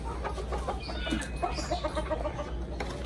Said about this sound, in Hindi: आपको तमाम मुर्गियाँ जो है ना वो डिफरेंट ही लगेंगी, अलग अलग ब्रीड है।